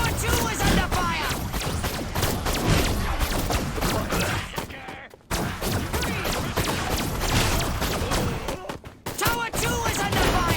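Heavy continuous gunfire around a tower in Destroy All Humans, rapid overlapping shots with two brief drops, while voices shout over the battle.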